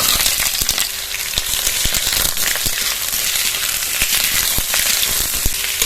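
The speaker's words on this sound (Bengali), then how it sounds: "টমেটোগুলো কিন্তু নাড়াচাড়া করতে করতেই আমি আগে 3-4 মিনিট ভেজে নেব" Raw tomatoes frying in hot oil with chillies, a steady close sizzle and crackle with occasional stirring clicks throughout, no voices.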